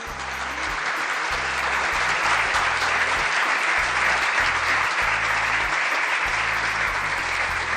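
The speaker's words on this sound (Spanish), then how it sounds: "denle un fuerte aplauso, que Él se lo merece." A church congregation bursts into loud, sustained applause that fills the room steadily from start to finish, with a low rhythmic musical backing running underneath.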